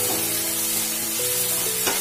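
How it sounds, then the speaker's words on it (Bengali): A spice paste with salt and tomato fries in a pan with no onion or garlic, giving a continuous close sizzle with a few light stirring scrapes. "আমি লবণটা দিয়ে আমি মশলাটা কষাচ্ছি"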